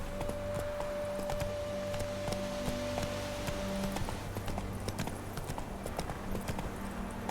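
A horse gallops in the video game The Witcher 3 with rapid, rhythmic hoofbeats, steady and close, layered over a low musical drone and light game ambience.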